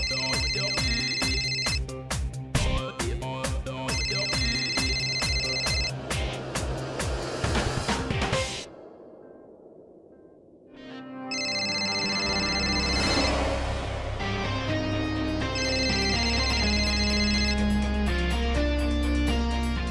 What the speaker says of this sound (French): C'est quel téléphone qui sonne?